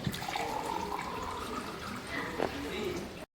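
Water pours in a steady stream for a few seconds, close by, with a voice murmuring faintly underneath.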